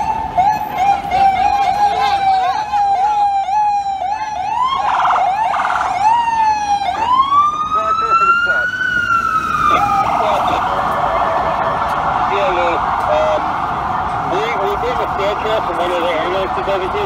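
A loud ambulance siren sweeps up and down close by at a serious accident scene in New York City, then settles into a long steady wail, with crowd and traffic noise underneath.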